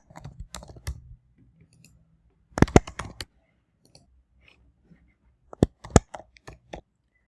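A computer mouse clicks in sparse, crisp clusters of quick taps with quiet gaps between them, close and isolated, with no talking.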